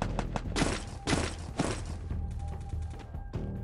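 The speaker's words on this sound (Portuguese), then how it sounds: "barulhos de tiros" Rapid bursts of gunfire in the video game Free Fire crack in quick succession, sharp and loud at first, then tapering into scattered shots with faint electronic tones.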